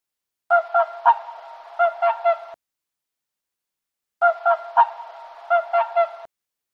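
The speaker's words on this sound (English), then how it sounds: "Swan." Two separate bursts of swan honking from the Vocal Zoo Gold iOS game, each a loud run of nasal honks lasting about two seconds, with a silent pause between them.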